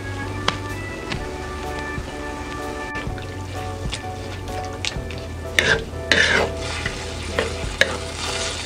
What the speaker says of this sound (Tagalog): lalagyan po natin itong ating beef cubes